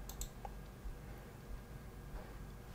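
A few soft computer mouse clicks, two close together at the start and more scattered ones later, quiet and isolated against a faint room background.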